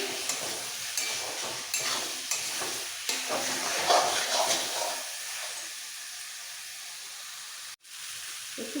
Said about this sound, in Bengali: মশলার সাথে আলুটা একটু কষিয়ে নিতে হবে